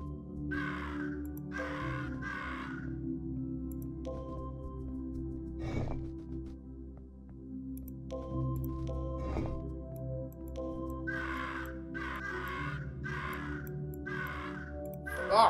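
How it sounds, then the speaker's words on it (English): Crow people cawing in the Monument Valley puzzle game: repeated bursts of harsh caws in clusters at the start and end, over a steady musical game soundtrack, with a few sharp clicks in between. "it's the spire in which Ida encounters the bothersome crow people"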